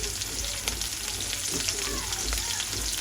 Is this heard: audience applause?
no